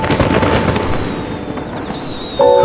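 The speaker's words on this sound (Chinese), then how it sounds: "烟花在天上炸" Fireworks bursting overhead at a festival, a dense rumbling crackle of overlapping explosions filling the air, with a brighter burst near the end.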